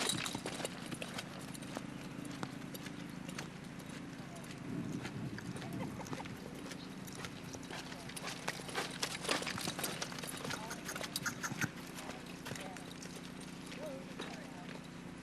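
A horse lopes around an arena, its hooves striking in a steady rolling rhythm of muffled clip-clops at moderate distance, with voices talking over the gait.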